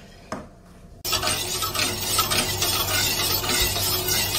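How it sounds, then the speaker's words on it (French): Pastry cream is stirred in a saucepan on the heat, a utensil scraping and swishing continuously after a brief clink, a steady close scratching texture. "on va mettre la casserole sur le feu et laisser épaissir tout en remuant sans arrêt"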